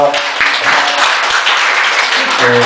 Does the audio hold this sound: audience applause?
yes